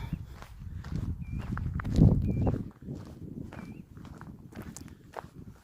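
Footsteps walking outdoors in Iceland on a farm with horses, steady and fairly close, crunching over ground with faint bird-like chirps and light background noise.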